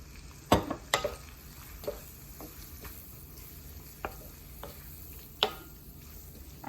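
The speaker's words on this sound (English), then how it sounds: "I would add half and then mix it in" Flour is stirred into hot oil for sausage gravy. A faint low sizzle runs underneath a few distinct scraping strokes and taps of the utensil against the pan, spaced out and close by, with no voices.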